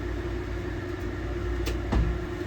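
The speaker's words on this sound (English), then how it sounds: "Pardon the background noise, my air's on," A steady droning hum of an air conditioner runs throughout, with a couple of faint clicks and a soft thump near the end.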